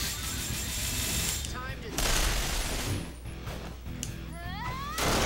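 Gunfire in the video game Resonance of Fate, busy bursts and crashes of shots under game music and sound effects, with a loud burst around the middle and talk mixed in.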